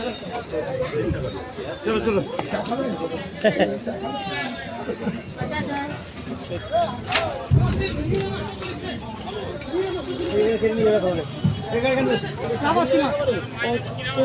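A busy morning fish wholesale market lines both sides of a railway track, where a dense crowd hubbub of overlapping voices, chatter and movement carries on steadily and loudly throughout.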